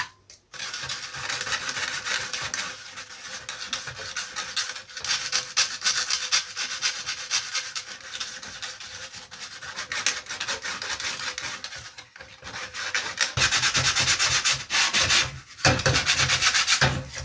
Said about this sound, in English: the best way to bring those out is to drill a hole and Dremel them around